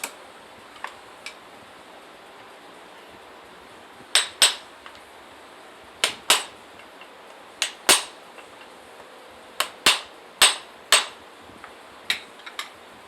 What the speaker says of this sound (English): I use this to kind of abuse it, knocking these nails in